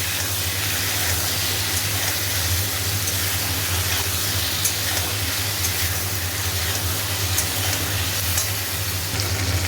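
Tomatoes cooked with salt and ginger paste fry in a pan, making a dense, continuous hiss and sizzle at close range that holds steady throughout with no talking.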